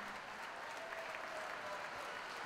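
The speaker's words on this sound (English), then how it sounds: "Please give all of our recipients a loud congratulatory applause." Steady, faint applause from an audience honoring award recipients at a swim meet ceremony, continuous clapping from a distant crowd without pauses.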